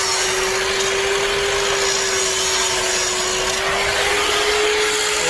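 Angle grinder cutting into the root pass of a downhill 6010 pipeline weld, a steady continuous grinding whine with a sustained tone held throughout, loud and close with no talk.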